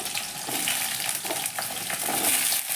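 Potato and squash pieces frying in oil in a wok make a continuous, fairly even sizzle, with a few faint stirring scrapes.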